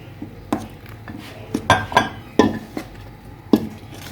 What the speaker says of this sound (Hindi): अब हम इस मेज़े को मिक्स करेंगे।